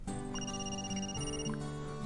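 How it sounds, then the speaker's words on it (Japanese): A smartphone rings in the otome game Stand My Heroes, playing a clear melodic ringtone of sustained electronic tones that shift pitch in steps, alone and fairly loud. "駅に向かう途中でスマホが鳴った。"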